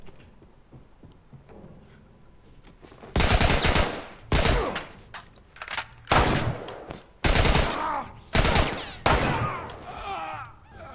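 Gunfire in The Last of Us Remastered opens after a quiet start, a series of loud, close shots and rapid bursts spaced a second or two apart, with no voices.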